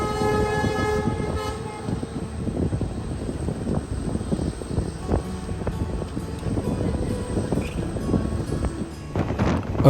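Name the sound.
train passing through a railway station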